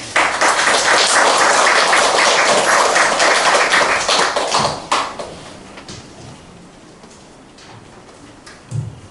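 Loud, dense applause from a crowd fills the first half, then tapers off into scattered claps and fades to quiet room noise.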